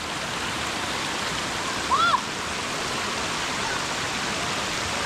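Steady broadband rush of creek water pouring over a large, newly built beaver dam beside a big lodge, continuous and fairly close, with a brief faint chirp-like sound partway through.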